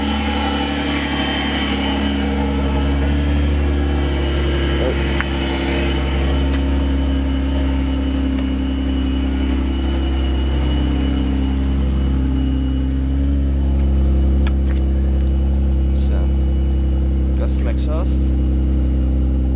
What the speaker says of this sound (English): Let's rev it a bit.